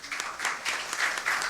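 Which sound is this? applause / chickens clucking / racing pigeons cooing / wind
applause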